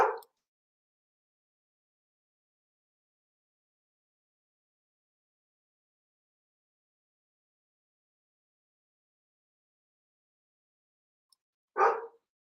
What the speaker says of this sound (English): My dog is triggered.